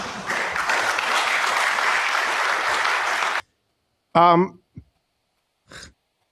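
Audience applause at a political talk event: a dense burst of clapping for about three and a half seconds that stops abruptly, followed by silence and short bits of speech.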